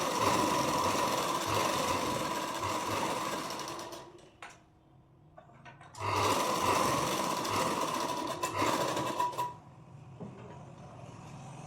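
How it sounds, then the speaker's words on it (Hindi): Sewing machine stitching a princess-cut blouse at half-inch intervals, two close runs of fast mechanical needle clatter separated by a short pause, the second ending before a quieter stretch, with no talk. "और यहाँ पे हम हाफ हाफ इंच पे ऐसे सिलाई लगा देंगे जैसे मैं लगा रही हूँ"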